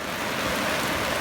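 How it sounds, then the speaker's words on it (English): Steady rain falls in the mountains, a dense, even hiss of water coming down hard and close, with no voices over it. "Well, finally we get rain."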